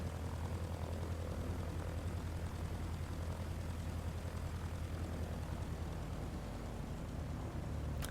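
Aircraft engine in Microsoft Flight Simulator 2020 taxiing to parking at night near the Boeing hangars at Everett, a steady, even propeller drone with a deep rumble that holds unbroken throughout, with no talk.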